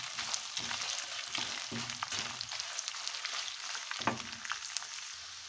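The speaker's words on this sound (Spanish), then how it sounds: "vamos a verter lo que son los chiles. Y vamos a mover para que no se peguen, no se nos quemen" Dried chiles frying with onion and garlic over low heat for salsa macha, a steady soft sizzle with crackles and the scrape of stirring in the pan, close and unbroken by speech.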